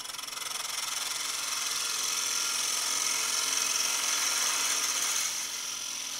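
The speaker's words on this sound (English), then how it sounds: "I'm going to change to a half inch spindle gouge. And we're just going to round over the corner." A half-inch spindle gouge rounds over the corner of a wooden paper towel holder spinning on a lathe. A steady, hissing cutting sound rises in after a moment, holds evenly, then eases off near the end. No one talks.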